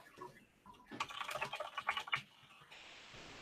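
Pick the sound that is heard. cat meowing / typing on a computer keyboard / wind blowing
typing on a computer keyboard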